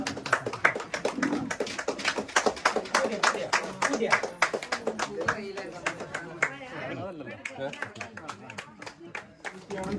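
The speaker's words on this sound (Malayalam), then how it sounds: "ഒരിക്കൽ കൂടി കയ്യടി കൊടുക്കണം കേട്ടോ." A small crowd at a prayer gathering in Thekkankuttoor, Kerala, claps after a small competition in a brisk, steady patter of distinct claps that continues throughout while someone talks over it.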